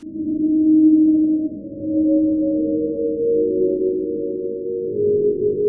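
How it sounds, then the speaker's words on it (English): A sustained, wet-sounding piano with long reverb tails, low and mellow notes blurring into a continuous wash, with no voices present. "but it's just a piano, a wet piano."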